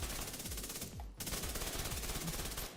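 Sustained automatic assault rifle fire in The Division 2, rapid rhythmic loud bursts with a brief pause near the middle before the shooting resumes.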